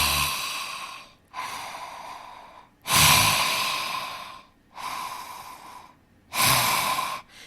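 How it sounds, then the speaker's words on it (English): A person does lion's breath with the tongue out, giving five loud, rhythmic breathy inhales and exhales, each a heavy, close rush of air separated by short pauses. "So you're going to stick your tongue out, and we're going to begin to inhale and exhale."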